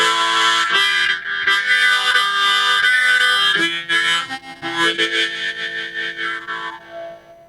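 Drawn notes on a custom double-sided paired harmonica, thick and reedy with an organ-like octave doubling, played loud and continuous with several chord changes and brief breaths between phrases, no voices.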